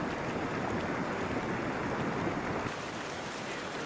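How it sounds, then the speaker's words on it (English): Slushy ice slurry of ice particles and water flowing down Yosemite Creek, a steady broadband rushing wash like a fast stream, continuous and moderately loud, dropping slightly in level near the end. "The particles of ice wash down the stream with the liquid water in a slurry, a slushy, slurpy, goopy mass"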